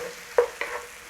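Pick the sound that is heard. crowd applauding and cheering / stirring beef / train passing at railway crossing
stirring beef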